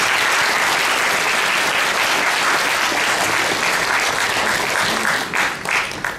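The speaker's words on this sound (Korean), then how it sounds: "수상하신 분들께 큰 박수 부탁드립니다." Loud, dense applause fills the space as an audience at a Korean commemorative ceremony honors award winners, sustained clapping from many hands that thins out and fades in the last second.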